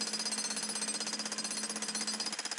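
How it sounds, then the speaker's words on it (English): A jackhammer pounds thick driveway concrete in rapid, steady bursts, loud and close, with a continuous rattling rhythm and no voices. "eventually this concrete will crack. But it does take some effort to do it, even with the jackhammer."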